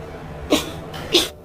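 Two short, sharp coughs spaced about half a second apart, close and fairly loud against a quiet background.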